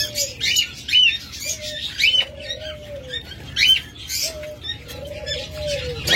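A pair of lovebirds in a cage with eggs chirps in quick, high repeated calls at close range, alongside softer, lower cooing notes from other birds nearby.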